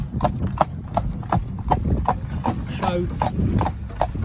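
A horse's hooves clip-clop past on a rural road in a steady, even rhythm, close and clear, while someone talks over them.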